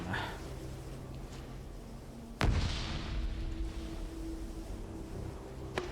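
Gunfire in a video game military operation, with a single loud boom partway through over a low rumbling backdrop of distant combat noise.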